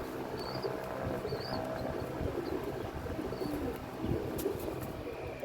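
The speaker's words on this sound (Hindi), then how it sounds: "एक और कबूतर आ गया" Pigeons at a loft cooing softly in the background, a few low coos over quiet outdoor ambience, faint and unhurried with no talking.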